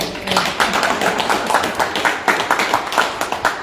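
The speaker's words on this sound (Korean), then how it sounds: "우 선생님한테 저 박수 한번 보내주십시오" A small audience at a photo exhibition gallery claps for a teacher, a close, brisk patter of individual hand claps continuing steadily for a few seconds.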